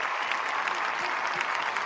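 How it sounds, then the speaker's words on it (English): Steady applause from a crowd, many hands clapping continuously at an even level for the whole stretch. "There's a lot of claps back there."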